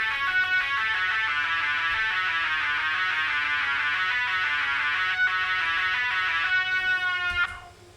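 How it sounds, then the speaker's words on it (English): A distorted electric guitar plays a fast, steady arpeggio lead line from an electronic dance track, loud and continuous with no talk, cutting off near the end. "this is what it sounds like on the guitar."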